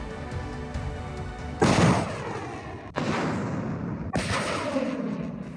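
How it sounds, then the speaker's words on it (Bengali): Heavy booms from bombs and missiles in a war zone strike three times, loud and sharp with long rumbling decays that overlap a steady background roar. "চারপাশে বোমার শব্দ মাথার ওপর দিয়ে বিকট শব্দে উড়ে বেড়াচ্ছে যুদ্ধবিমান"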